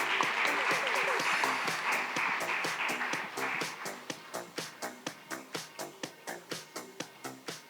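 Audience applause for an award recipient at a nursing conference. A full round of clapping thins after about four seconds into a few slow, evenly spaced claps close by.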